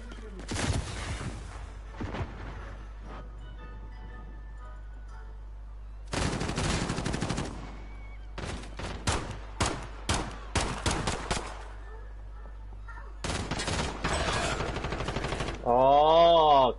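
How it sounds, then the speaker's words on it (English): Rapid automatic AK rifle fire in the video game Call of Duty Modern Warfare comes in loud bursts and short volleys, separated by quieter gaps, with a further crackling burst near the end. "I think that's an AK."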